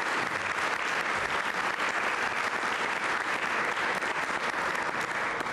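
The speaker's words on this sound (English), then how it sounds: "Give them a round of applause, please" An audience at a talk on high-speed rail in Illinois gives a round of applause, a dense, steady, loud wash of many hands clapping that holds evenly throughout.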